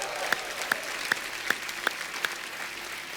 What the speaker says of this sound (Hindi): एक बार तालियां और बनती है